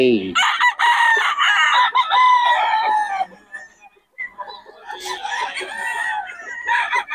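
Several stag roosters crowing at a farm, loud and close, with overlapping cock-a-doodle-doo calls and clucks while someone talks over them.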